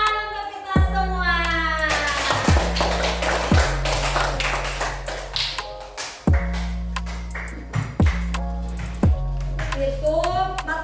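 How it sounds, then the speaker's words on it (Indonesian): Schoolchildren in a classroom clap their hands in sharp rhythmic patterns, crisp close claps repeating in groups with children's voices chanting between them. "Tepuk tangan untuk kita semua."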